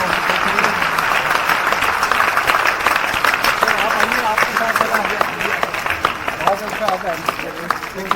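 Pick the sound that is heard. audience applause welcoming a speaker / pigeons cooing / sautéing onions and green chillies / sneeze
audience applause welcoming a speaker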